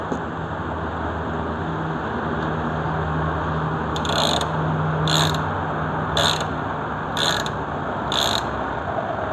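A Sellery ratchet handle turns a Crossman double ring pass-through ratchet wrench in 14 mm size, giving five short bursts of rapid, close metallic clicking at a regular rhythm after a quiet stretch.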